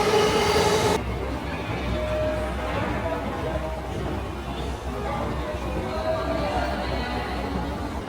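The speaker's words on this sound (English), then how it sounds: "Now that's a train." A monorail train at Tokyo Disney rumbles along steadily with a low continuous roar and a faint wheel whine, voices murmuring faintly in the background.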